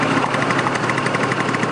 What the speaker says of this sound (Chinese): 这是50cc 的二行程机车